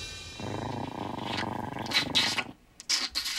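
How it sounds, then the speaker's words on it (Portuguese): A pet cat purring close up for a couple of seconds, a low rattling hum, followed by a few brief higher sounds and a short gap. "Heather ficou em casa e se consolou com o gato dela, Bruiser."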